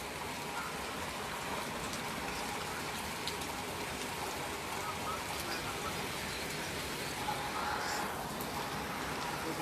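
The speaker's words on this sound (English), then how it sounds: "yep, still a rainy day. A rainy, stormy day." Steady rain on a stormy day: a continuous, even hiss of falling drops that stays the same throughout, moderately loud and with no pauses.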